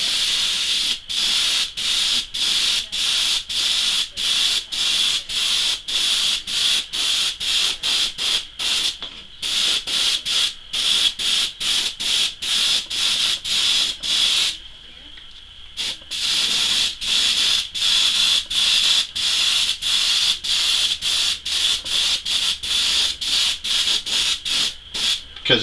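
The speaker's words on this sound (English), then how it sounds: "when you spray, spray directly at it." Airbrush spraying charcoal paint to create a carbon fiber pattern, a loud close hiss in rapid repeated bursts with tiny gaps, briefly stopping mid-way before resuming steadily.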